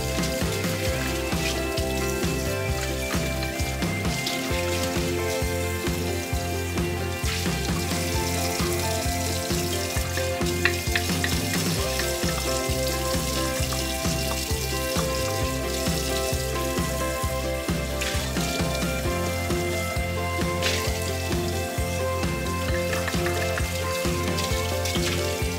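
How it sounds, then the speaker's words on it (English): Running water splashes steadily into a sink while pet water bowls are rinsed and washed, a continuous loud hiss and patter with clattering dish knocks throughout, no talking. "I wash Squishy's water bowls just to make sure that he's staying healthy"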